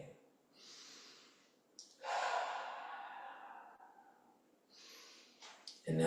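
Slow, deliberate breaths during a gentle movement exercise: a soft inhale, then a long audible exhale, followed by another breath near the end, close and quiet.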